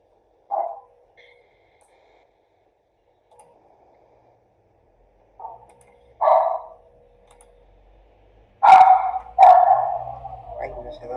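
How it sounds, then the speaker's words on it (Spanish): A small female dog barks in short, sharp bursts indoors: a couple of isolated yaps, then louder clustered barks toward the end, separated by near-silent pauses. "mi perrita se puso loca"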